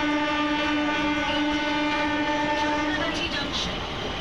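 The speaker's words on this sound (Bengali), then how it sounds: "তারপরে ট্রেনে উঠে পড়লাম আবার।" A passenger train runs loud and close on its rails, a steady rumbling roar with a sustained horn-like tone held over most of it before it gives way to rattling rail noise.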